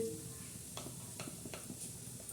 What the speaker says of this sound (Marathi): आता ते तेल तापत आलेलं आहे आता आपण त्याच्यात ते लाल तिखट सोडणार आहोत